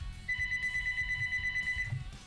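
Telephone ringtone sounding as a steady electronic bell-like tone for about two seconds, fairly clear above low background rumble, then cutting off.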